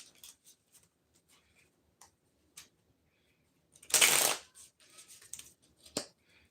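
Tarot cards from a Twin Flame Awakening Path deck being shuffled, with a burst of riffling near the middle and scattered soft card flicks and taps before and after, close and fairly quiet, with no talking.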